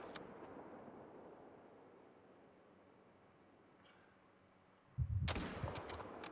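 A single hunting rifle shot rings out abruptly after a long stretch of quiet outdoor ambience in theHunter: Call of the Wild, a sharp, loud crack followed by a short decaying echo.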